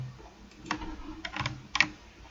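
Quick bursts of keystrokes on a computer keyboard while entering dimensions in ventilation-ductwork CAD software, clustered close taps separated by short pauses.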